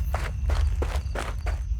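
Running footsteps on a hard surface form a quick, even series of about six near, crisp steps over a low background hum, a sound effect in a horror story narration.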